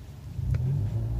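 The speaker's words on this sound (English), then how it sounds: "show you how the throttle works in terms of the revs when it's idle" A Seat Leon car engine idles with a low, steady rumble, then rises briefly in revs partway through, close and alone without talk.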